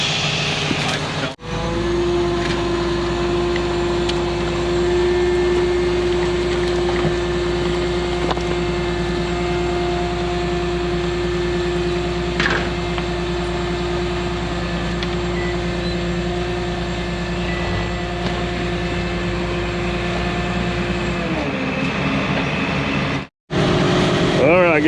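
Diesel engine of an 850B bulldozer runs steadily and loud, with a constant low drone and a strong humming tone for most of the time, then briefly cuts out and restarts near the end.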